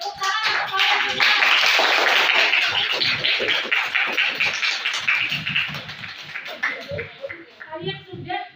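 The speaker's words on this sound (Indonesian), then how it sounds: "Yang semangat nak tepuk tangan untuk kalian semua." Schoolchildren in a classroom clap along together in a lively, fairly loud burst of rhythmic hand claps, with children's voices and chatter mixed in throughout before the claps taper off.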